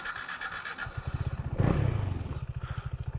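A Husqvarna Svartpilen 401 motorcycle engine putters with a rhythmic, uneven chugging as it starts to die while riding in the city. A brief louder surge comes midway, then the pulsing continues close up.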